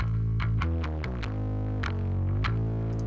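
Bass guitar notes pushed through the Silver Bullet mk2 plugin with heavy distortion, thick and buzzing, sustaining in a dense, loud line with a few note changes.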